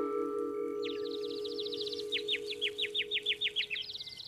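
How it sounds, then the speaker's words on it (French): Newly hatched baby birds in a forest chirping in quick high twittering runs, a first trill followed by a rhythmic series of about ten short bright peeps, moderately close over a steady background hum. "Les oisillons sont nés, je les entends gazouiller."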